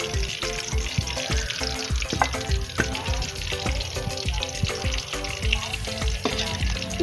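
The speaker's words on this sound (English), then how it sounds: "I'm adding my palm oil." Palm oil sizzles and crackles steadily in a pot while vegetable porridge with yam is cooked, a dense, continuous frying hiss with scattered sharper pops and a faint rhythmic low thumping underneath.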